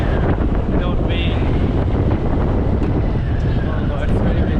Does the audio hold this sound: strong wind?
yes